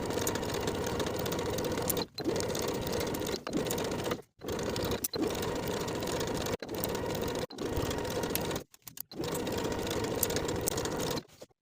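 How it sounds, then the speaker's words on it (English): Sewing machine stitching a wool jacket's lining to its facing along a 3/8 inch seam, running in long steady bursts with brief pauses between passes, close and alone. "Now I'm going to sew the lining to the facing all the way around from the bottom of the center front, around the neckline"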